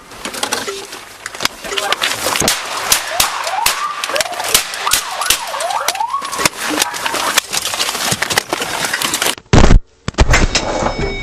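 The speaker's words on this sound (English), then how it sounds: "Shots fired, shots fired." Gunshots ring out during a police encounter in Seattle as several loud, sharp cracks, with a siren wailing and crowd or radio noise around them, close and harsh, followed by a brief near-silent gap.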